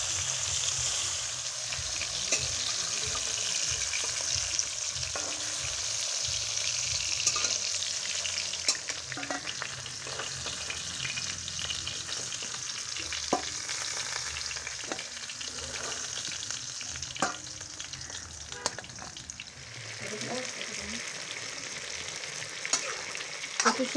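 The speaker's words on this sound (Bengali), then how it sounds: "আমার তেলটা গরম হয়ে গেছে। আমি মাছগুলি দিয়ে দিচ্ছি, হালকা ভেজে নেব।" Hilsa fish pieces fry lightly in hot oil, a steady soft sizzle and crackle that runs throughout with occasional stirring clatters and pops, close and continuous.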